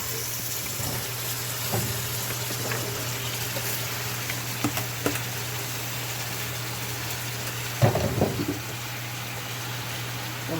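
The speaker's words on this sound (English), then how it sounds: "I just gotta pour this in the pot and pour in my water right now" Water is poured into a cooking pot for brown stew pork with bulgur wheat, a soft continuous gushing wash over a steady low hum, with a few clinks and a brief louder clatter partway through.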